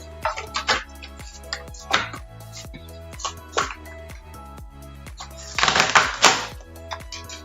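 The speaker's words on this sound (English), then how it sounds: "So I tear a little bit of cling film off" Crinkly, crackling cling film being pulled and torn in several short bursts, with a longer rustling tear near the end; close and moderately loud.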